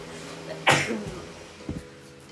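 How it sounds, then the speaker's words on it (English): A single sharp, loud sneeze bursts out close up, followed moments later by a smaller breathy sniff or throat sound. "Okay, guys, I'm done sneezing."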